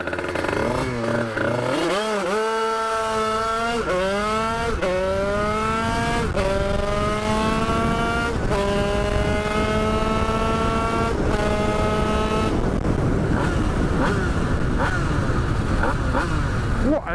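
A 50cc moped engine revs out hard along a straight road, its pitch climbing steeply through several rising sweeps in a loud, close whine before settling into a rougher, steady drone.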